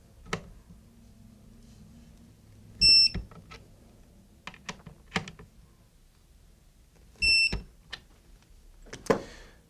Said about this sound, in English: This is a 65 inch-pound torque wrench that will actually beep and click over